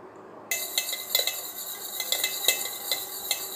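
A whisk beats eggless plain cake batter in a bowl, giving a steady run of close, fairly loud clinking strokes that start abruptly and repeat at a quick, uneven rhythm, with no voices.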